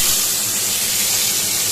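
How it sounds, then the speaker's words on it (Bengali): Tilapia fish frying in hot oil in a wok, a dense, loud, steady hiss and crackle of sizzling with no pauses. "এই কড়াইতে তেল বেশ গরম হয়ে গেছে। আমি এবার মাছ ভাজার জন্য মাছগুলো দিয়ে দেব।"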